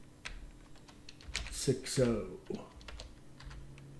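Quick bursts of clicking on a computer keyboard, close and fairly clear, with short pauses between runs of keystrokes and a voice speaking faintly around them.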